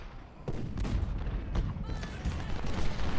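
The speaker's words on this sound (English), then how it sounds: "24-pounders opening up on them." 24-pounder cannons firing in a video game battle, with a series of distant booms and rumbling thuds scattered over a continuous low battle din, moderately faint.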